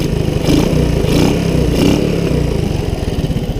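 A Honda ATC185 engine, choke off with freshly adjusted timing and air mixture, idles in a close, loud, steady thumping putter with a fast even rhythm.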